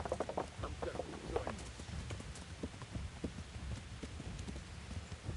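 Horse hooves in Kingdom Come: Deliverance, a 15th century simulation RPG, a steady rapid clip-clop of galloping throughout at moderate loudness, with no talking.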